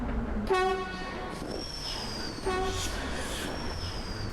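A train in the Transport Fever 2 video game sounds its horn in two short blasts about two seconds apart, over a steady rumble of rolling rail noise.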